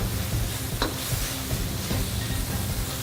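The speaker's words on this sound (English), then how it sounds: "I'm going to stir this, give it a nice little toss." Japchae stir fry being stirred and tossed in a hot pan, steady sizzling with scattered scraping and clattering knocks of the utensil against the pan, no talking.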